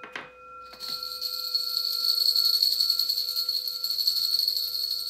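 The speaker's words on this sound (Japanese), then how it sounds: "素敵な鐘の音と可愛い鈴の音で始まりました。" A bell is struck with a sharp metallic hit, then a bright, sustained ringing with a small jingling bell layered over it. The ringing holds steady and fairly quiet, alone, with no voices.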